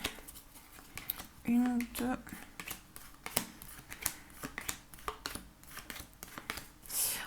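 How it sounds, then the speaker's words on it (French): Cards are shuffled and drawn for a weekly card reading, giving brisk, crisp flicks and snaps scattered throughout, with a voice speaking over them. "On va faire le tirage."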